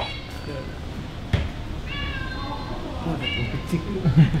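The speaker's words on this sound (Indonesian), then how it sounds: "Itu kucing apa sih?" A cat meows several times, fairly clear and close, its cries rising over a continuous murmur of indoor background noise and voices.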